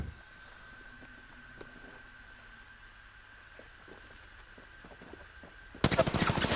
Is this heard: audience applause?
no